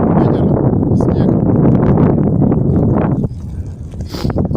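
Wind buffeting the microphone in a snowstorm on a frozen lake during November ice fishing with tip-ups at Beloyarka, a steady loud broadband roar that eases a little near the end.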